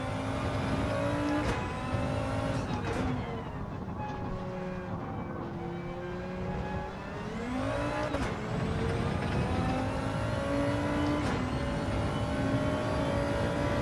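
A car engine drones and shifts pitch while driving in Gran Turismo 7, rising and falling through several gear changes with brief sharp shifts, loud and continuous without talk.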